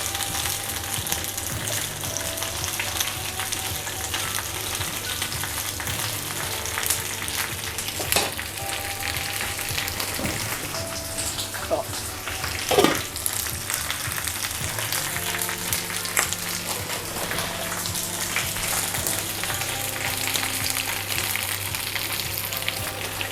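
Fresh spinach frying in a pan, a steady close sizzle and crackle that runs throughout with occasional sharper pops, no voices over it.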